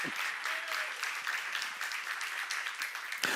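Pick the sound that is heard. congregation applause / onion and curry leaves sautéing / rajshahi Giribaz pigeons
congregation applause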